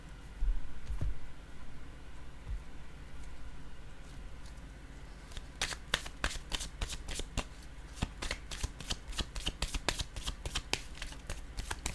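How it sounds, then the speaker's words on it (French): Tarot-style cards are shuffled and laid down during a card reading, starting with quiet handling and soft taps, then a fast run of crisp, close riffling snaps repeating in quick bursts. "Je vais déposer une carte en regardant le mot."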